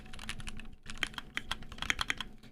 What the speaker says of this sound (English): I start typing something actually, and then I just give up and start gibberish.